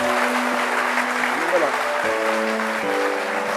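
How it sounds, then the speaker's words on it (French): Television studio audience applauding a singer, a steady patter of clapping that runs beneath music and a host's voice. "sous vos applaudissements, cher public."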